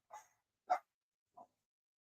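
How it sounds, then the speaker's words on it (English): Three separate barks from a single dog, each short and sharp, sounding at a moderate distance in a quiet room with nobody speaking. "dog's barking"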